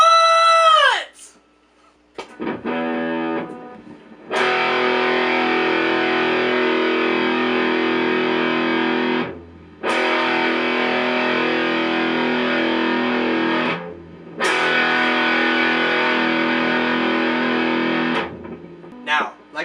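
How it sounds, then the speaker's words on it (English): Loud distorted electric guitar power chords, three long sustained strums separated by brief pauses, preceded by a short high squeal. "apply some distortion so we can begin hearing the power of these chords"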